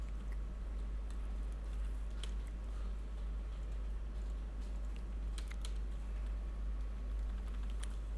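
Computer keyboard typing during work on a JavaScript do-while loop script, a steady run of faint, quick clicks over a constant low hum, with no voices.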